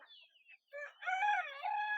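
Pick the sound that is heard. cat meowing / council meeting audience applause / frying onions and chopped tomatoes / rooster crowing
rooster crowing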